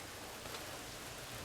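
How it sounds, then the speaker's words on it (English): Steady rain falls on a campsite outdoors, a soft continuous hiss with no distinct drops, quiet and even throughout, no voices. "it's raining"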